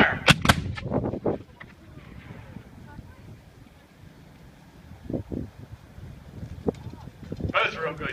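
Mortars fire at a Civil War reenactment contest, with sharp, loud booming reports clustered near the start and a few later distant thumps, while voices carry on in the background.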